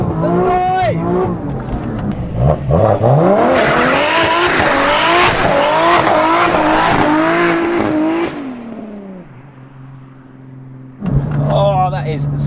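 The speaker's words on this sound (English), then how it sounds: "Standard rear muffler, just with those resonators in there, and it sounds on point" A BMW F80 M3 with a standard rear muffler fitted with resonators revs hard, its engine wailing and climbing, with tires squealing and skidding up close, then settling to a low idle before revving again; people talk briefly.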